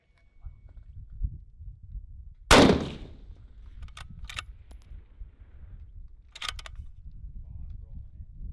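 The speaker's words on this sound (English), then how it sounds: "I'm going to shoot a couple confirmation shots at 100." A single rifle confirmation shot fired at a 100-yard target on an outdoor shooting range: one sharp, loud crack with a short decay, surrounded by quiet range ambience and a few faint clicks.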